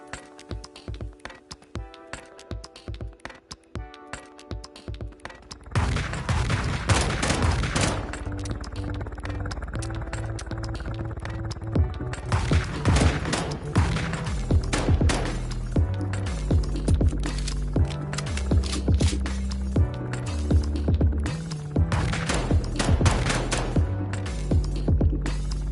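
Rapid gunfire from shooting people in a video game, dense bursts of shots layered over loud, steady background music, with no talk.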